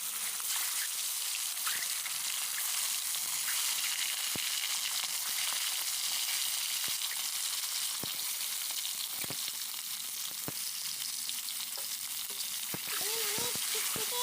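Beaten eggs mixed with turmeric and salt fry in hot oil with a loud, dense, steady crackling sizzle that fills the whole stretch, with faint occasional clicks and a murmur of voice underneath.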